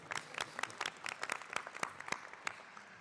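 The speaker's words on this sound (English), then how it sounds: "It's always a round of applause for Gary." A university graduation audience claps, a thin, scattered applause of separate hand claps at a fairly quiet level, as if from a smaller group or at a distance.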